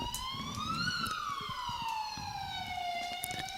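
An ambulance siren near a hospital wails in a slow rising and falling sweep, heard at moderate distance over outdoor background noise.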